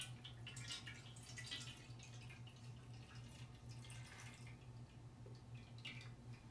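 Mixed Caffenol developer solution poured into a container, a steady trickling, dripping liquid stream running continuously and close, with no talk.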